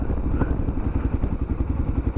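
A motorcycle on a coastal ride from Cairns to Daintree is backed into a parking spot, its engine a close, steady low rumble with faint clatter and thuds.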